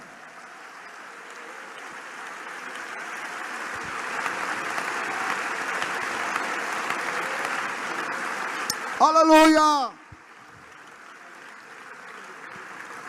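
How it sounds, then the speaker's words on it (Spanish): Church congregation applauds in a steady, fairly loud wash of clapping. A voice briefly exclaims near the end before the clapping drops to a faint level. "Fuerte ese aplauso al Señor"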